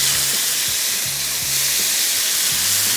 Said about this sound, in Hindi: तो चिकन को थोड़ा सा किया फ्राई